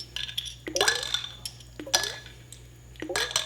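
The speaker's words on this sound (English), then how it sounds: "Dump your parts in." Metal suppressor parts dumped into a container of peracetic acid cleaning solution, three bursts of clinking, rattling metal against the container with splashing liquid, spaced about a second apart, close and fairly loud.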